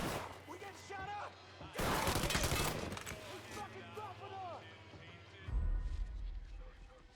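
Mafia 3 shootout: bursts of gunfire crack and rattle in loud volleys amid crashes and impacts, with voices shouting between the shots.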